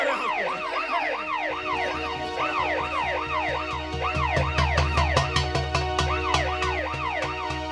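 An ambulance siren wails in a fast, repeating up-and-down sweep, loud and close, continuous for several seconds with a steady rumble of background noise beneath it.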